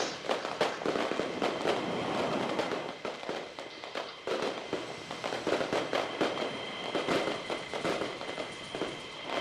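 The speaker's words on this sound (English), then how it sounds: "And I hear more fireworks." Fireworks burst repeatedly in the Roblox flight game Aeronautica, with sharp irregular pops and crackles over a steady background noise and no speech.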